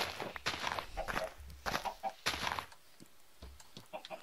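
Chickens cluck in repeated short bursts in a farm video game, close and moderately loud, with soft footstep-like taps between the calls and no speech.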